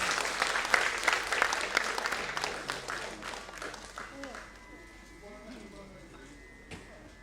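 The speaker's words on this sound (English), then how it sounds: "Special round of applause." An audience honoring young twin performers at an Indian classical music and Kriya Yoga event breaks into dense, loud applause that gradually thins and fades over several seconds.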